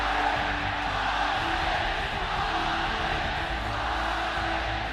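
A home crowd roaring and cheering at the 2016 Mid-Season Invitational esports event in Shanghai, a steady dense wall of voices that holds for several seconds without a break.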